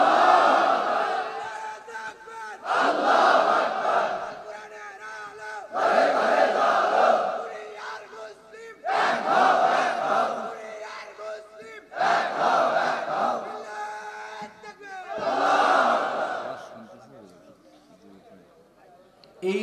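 A large crowd at a religious sermon roars "Allahu Akbar" in repeated call-and-response bursts, six loud chanted swells spaced a few seconds apart. Each swell answers a leader's call.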